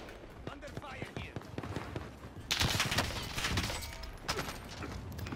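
Gunfire in Call of Duty: Warzone, a dense burst of automatic shots breaking out midway and continuing under excited voices talking over the action.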